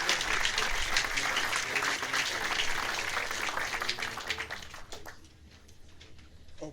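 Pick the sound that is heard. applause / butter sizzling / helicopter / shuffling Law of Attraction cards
applause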